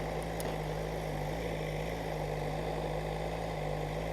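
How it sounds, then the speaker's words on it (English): A motorcycle engine idles just after a cold start while warming up, giving a steady, even low drone that holds close and unbroken throughout with no voices. "Alright guys, just started the bike, let it warm up a little bit."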